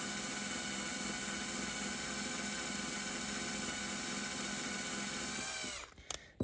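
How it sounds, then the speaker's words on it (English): A power drill drilling into a Hot Wheels toy car whines steadily at a high, constant pitch, then winds down and stops near the end, with short clicks after. "Have to keep cleaning the drill bit off."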